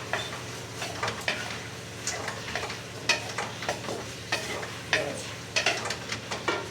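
Green chillies being stirred in a pan for pickle, with irregular scraping and clinking strokes of a utensil against the pan over a soft sizzle, close and moderately quiet with no talking.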